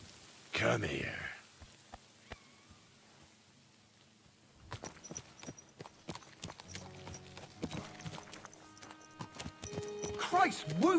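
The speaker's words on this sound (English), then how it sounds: "Watch out with that horse!" Horse hooves clip-clop on the ground in rain in the video game Kingdom Come: Deliverance II, scattered and uneven, with a voice speaking briefly at the start and rain pattering beneath.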